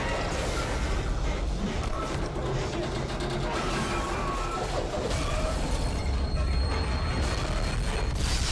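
Train ride in the Dead Space 2 game: a steady, loud rumble of rail cars with mechanical rattling and faint wheel squeal running continuously throughout.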